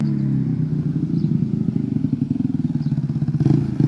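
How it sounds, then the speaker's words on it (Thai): A loud motorcycle engine runs steadily up close, its low rumble throbbing with a rough, pulsing rhythm throughout. "เสียงรถเกียร์ดังมากเลยนะ"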